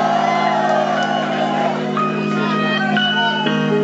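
A concert crowd at the Whiskey A Go Go club cheers for a hip-hop performer: loud, dense shouting, whooping and yelling that stays steady and fills the room for about four seconds.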